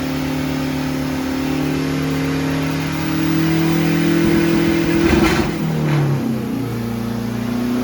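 A remapped but otherwise stock Mitsubishi Triton 2.4 MIVEC engine revs to 5000 rpm, a loud, close mid-pitched drone that climbs and holds before dropping back to a lower idle, with no talking.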